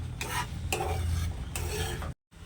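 Thick mango halwa is stirred in a pan, the spatula scraping in several distinct sweeps over a soft sizzle, close and fairly quiet, ending in a brief silence.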